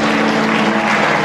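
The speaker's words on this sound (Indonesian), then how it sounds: "Yang merasakan hadirat Tuhan kasih tepuk tangan yang meriah" Church congregation at a worship service clapping loudly and densely, a thick continuous roar of many hands close and full, with a sustained low tone running underneath.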